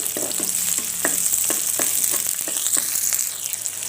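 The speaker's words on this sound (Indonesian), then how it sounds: "Kita sangrai sampai keluar aromanya dan layu" Spices and shallots for soto ayam are dry-roasted in a pan, giving a steady sizzling hiss with soft scraping stir strokes, close and fairly loud with no talk.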